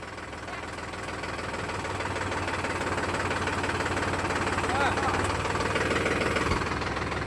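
A tractor engine idles and runs steadily while hauling a motor up out of a well, a continuous low knocking rumble that swells slightly, with voices talking over it.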